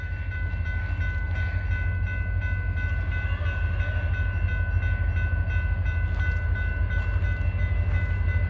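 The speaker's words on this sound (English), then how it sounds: "that gate goes down now because Norfolk Southern's coming" A Norfolk Southern train rumbling toward a level crossing in rainy Miamisburg, with a steady low rolling drone and sustained tonal whine, continuous and fairly close, with no talk.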